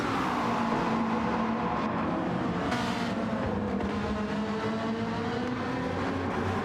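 Lamborghini and McLaren race cars in a racing video game Interlagos league race, engines droning steadily at high revs with rising and falling pitch, close and continuous.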